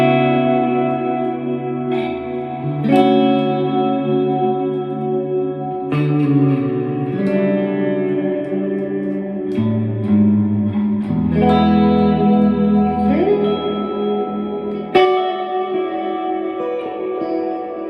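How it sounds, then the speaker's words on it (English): Squier Classic Vibe Jazzmaster electric guitar played through a big, washy reverb, with chords and single notes ringing and trailing into long echoes, a high note popping out near the end, steady and fairly loud with no talk. "That's a really big reverb."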